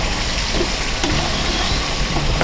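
Jaggery syrup being stirred into fried rava for halwa makes a steady, close sizzle with soft scraping and stirring sounds, continuous and fairly loud, with no talking.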